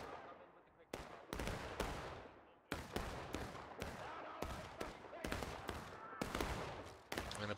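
Scattered musket volleys from soldiers in War of Rights, a dozen or so sharp loud reports at irregular intervals, some overlapping, each trailing into a rumbling echo.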